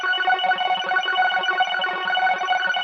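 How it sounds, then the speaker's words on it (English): An Omnisphere arpeggiator preset plays quick repeating notes cycling steadily through a chord pattern, bright and processed with reverb and delay, playing alone. "grab an ARP preset from Omnisphere and lay down these notes"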